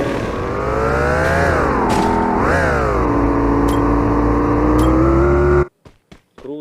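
A vehicle engine in a battle royale video game drones steadily and loudly for several seconds, its pitch rising and dipping as it drives, then cuts off abruptly, leaving short bursts of other sound.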